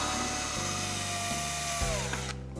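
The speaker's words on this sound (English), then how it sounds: "take a power drill with a 1/8 inch drill bit, and on one side of that 5-gallon bucket" A power drill with a 1/8 inch bit boring through a 5-gallon plastic bucket, a loud, steady whirring whine with shifting motor pitch before winding down at the end, close and alone.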